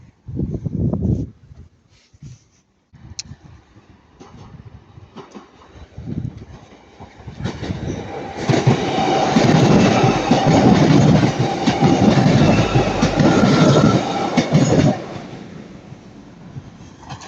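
Two trains, 231 and 238, pass at Ardwick; after some scattered quieter rail noise, a loud sustained rumble with rolling wheel clatter builds near and holds for several seconds before easing off.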